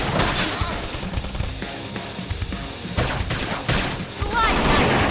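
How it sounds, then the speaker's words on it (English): Rapid bursts of gunfire and impact crashes ring out during combat in Xenoblade Chronicles X, dense and continuous over a busy game soundtrack, with a few heavier hits near the end. "Now, topple him with some gunfire."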